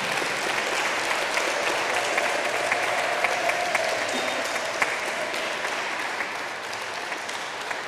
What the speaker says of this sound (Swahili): tuanze kushangilia ndio walete